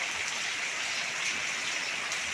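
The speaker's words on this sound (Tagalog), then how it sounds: "Malakas ang ulan." Steady heavy rain, a dense, continuous hiss of water falling with no breaks.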